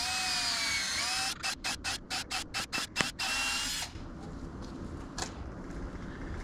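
A power drill bores pilot holes in old wet lumber while building a raised potato bed, whirring in a rapid series of short stuttering bursts before a longer steady run, close and loud.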